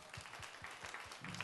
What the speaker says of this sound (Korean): 격려하는 박수 한번 하겠습니다